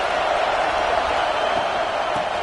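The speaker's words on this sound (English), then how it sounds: "This crowd bringing the energy and noise early." Steady, dense roar of a stadium crowd at a rugby match, a continuous wash of massed voices holding at an even level throughout with no single voice standing out.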